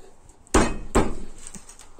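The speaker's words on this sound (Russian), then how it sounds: "Давайте молоточком постучим, попробуем." A small hammer strikes a plastic joint glued with homemade liquid plastic made from dissolved acrylic glass, two sharp loud knocks followed by a few lighter taps.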